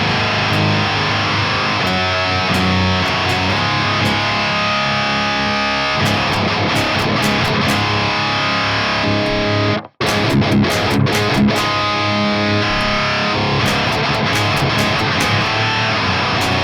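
Electric guitar run through a Boss DS-1 distortion pedal with tone fully up and distortion down, giving a loud, aggressive buzzsaw riff that plays continuously, cut by one brief dropout near the middle.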